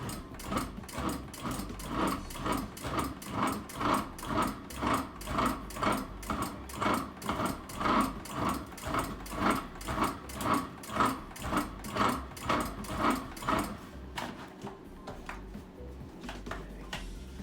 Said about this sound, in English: let's see how we can get that blended up